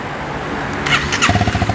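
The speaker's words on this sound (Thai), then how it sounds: "คันนี้ยังคงเป็นท ่อเดิมอยู่นะครับมาฟังเสียงท่อกันหน่อยมา" A 2021 Honda Rebel 300 with its stock exhaust cranks with a brief whirring starter, then catches and settles into a close, loud, pulsing idle.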